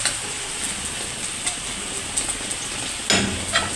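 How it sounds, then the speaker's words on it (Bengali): Leafy greens sizzle in hot oil with onion and garlic, a steady close hiss with a few soft stirring knocks and a sharper burst of crackle near the end, no voices. "এখন আমি শাকটা ঢেলে দেবো"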